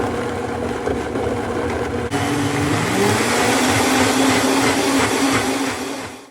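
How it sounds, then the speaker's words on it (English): A blender whirs loudly as it purées produce with a little water for juice, a steady motor roar with a pitch that climbs after a few seconds, then winds down at the end. "So now let me just put the lid on and zap this up"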